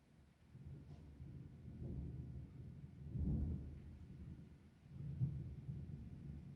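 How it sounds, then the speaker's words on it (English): A thunderstorm outside a house gives faint, low rolling rumbles of distant thunder that swell and fade in slow waves. "There's a bit of a storm going on at Patrick's house"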